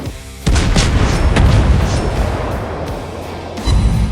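Heavy naval guns firing from a warship in a naval combat video game, with deep booming blasts rolling into a long low rumble, loud and close, and a second blast near the end.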